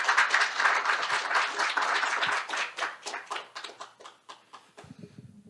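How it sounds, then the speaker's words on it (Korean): Applause at a Korean accounting-reform forum greeting a National Assembly member, many hands clapping loudly at first, then thinning into scattered individual claps before fading out, with a low murmur at the end. "따뜻한 박수 부탁드리겠습니다."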